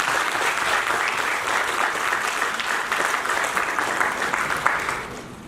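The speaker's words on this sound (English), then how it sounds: "give a big hand of applause once again for both of them" Audience applause after a university seminar, a steady dense wash of many hands clapping together, fairly close and sustained, easing off slightly at the very end.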